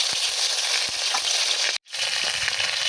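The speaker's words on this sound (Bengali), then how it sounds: "তা আমি প্রথমে একটা দিয়ে দেখবো মাছটা ভালো ভাজা হয় কিনা" Bombay duck fish, coated in salt and turmeric, frying in hot mustard oil with a loud, steady close-up sizzle that cuts out briefly for a moment, then resumes.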